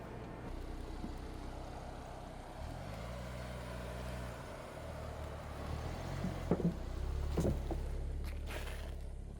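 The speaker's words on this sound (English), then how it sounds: "So we're gonna go ahead and try the Bronco up over the ramps." A Ford Bronco rolls slowly up over rubber curb ramps, its engine a steady low rumble with a brief rising rev midway and a couple of sharp knocks or clunks near the end, no talking.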